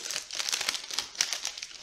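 Plastic packaging of BP-WR energy ration bars crinkles and crackles up close, a quick, continuous run of sharp rustles and crumples with no talking.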